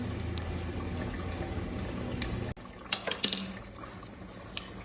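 Mustard seeds splutter in hot oil while the masala for a curry is started, a few sharp, scattered pops and crackles over a low kitchen hiss.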